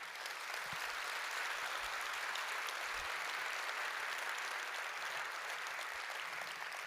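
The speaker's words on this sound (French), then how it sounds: "j'aimerais qu'on l'applaudisse s'il vous plaît" Distant, even applause from an audience at a tribute event, a continuous wash of clapping held at a steady level throughout, with no talking over it.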